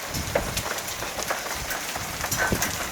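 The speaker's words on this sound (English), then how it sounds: "Looks like it is pea-size hail." Pea-size hail falling outdoors, a dense steady patter of small hard pellets striking surfaces, with scattered sharper ticks and taps throughout and no voices.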